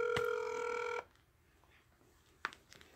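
A phone ringing during a call while waiting for someone to answer: one steady electronic ring tone for about a second, fairly clear, then it stops, followed by quiet background and a few faint clicks.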